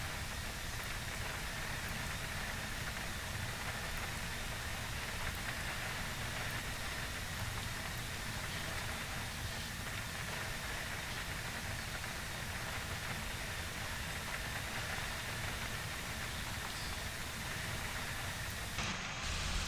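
Steady, even rain hisses over a parked airliner in the X-Plane 11 flight simulator, a Flight Factor A320 at the gate, as a faint continuous wash with no voices over it.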